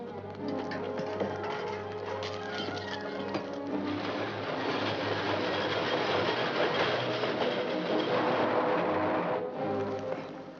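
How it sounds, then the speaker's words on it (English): A train rumbles steadily past with rhythmic clacking and metallic rattling, loud and continuous, growing slightly heavier toward the end, in a 1952 western film scene. "Sounds like a train now."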